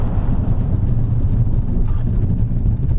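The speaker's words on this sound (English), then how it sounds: "Accelerating up to 25 there and on the brakes." A car fitted with Goodyear textile snow socks accelerates up to about 25 mph on snow and then brakes, a steady low rumble of engine and tires close by throughout.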